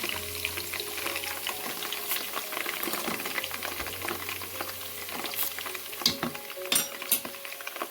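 Panch phoron whole spices, two spoonfuls, crackle and sizzle in hot oil with garlic for a Bombay chili pickle, a steady frying hiss with scattered sharp pops that get louder near the end.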